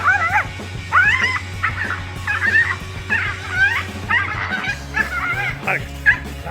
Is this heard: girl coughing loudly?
no